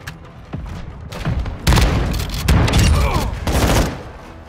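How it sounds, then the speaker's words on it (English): Mortar strike explosions in the video game Modern Warfare 2, several heavy booming blasts in close succession with a long rumbling tail, loud and near, layered with scattered gunfire. "Friendly mortar strike on the way."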